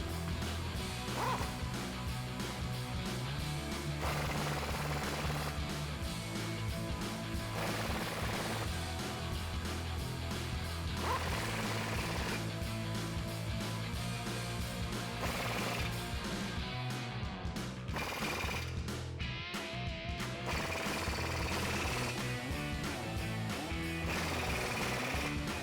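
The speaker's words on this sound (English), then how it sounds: "grab our 24 mil socket on our impact, and we'll alternate sides and tighten these up fully" An impact wrench with a 24 mm socket tightens U-bolts during a rear lift block install on a Ford F-250, a loud, steady rattling hammer that runs in repeated long bursts throughout.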